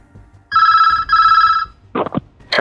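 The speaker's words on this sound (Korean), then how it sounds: "전화가 걸려왔습니다." Telephone ringing for an incoming call, two loud electronic double-burst rings in quick succession followed by brief fragments of other sound.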